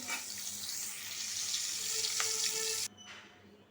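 Fish fries in hot oil with a loud, steady hiss that cuts off abruptly as the fish is lifted out, leaving only a quiet background.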